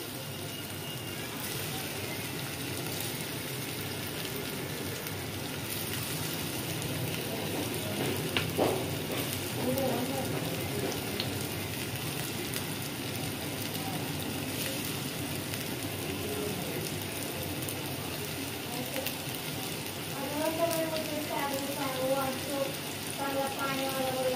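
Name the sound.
paneer slices frying in oil in a pan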